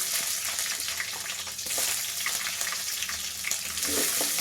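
Onions frying in a pan for uppittu, with a loud, continuous hiss of oil that stays dense throughout, with faint stirring clinks close by.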